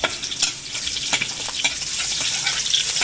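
Cabbage stir-fried with pork in a pan over low heat gives a continuous close sizzle, broken by repeated sharp scrapes and tosses of a spatula.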